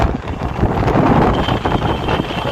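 Strong gusting wind on a bridge over the Ganges at Haridwar during a storm, a loud continuous roar buffeting the microphone with no pauses.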